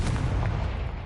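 A single fire spell blast erupts in Hogwarts Legacy, a short, loud, rumbling explosion that fills the moment without any voice.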